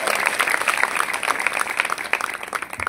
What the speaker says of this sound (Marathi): आता 5वी टाळी वाजवायची